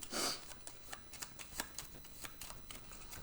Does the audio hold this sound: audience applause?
no